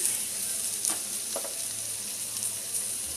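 Sliced onion frying in a pan with ginger and garlic over medium flame, a loud continuous close sizzle with a few soft stirring scrapes.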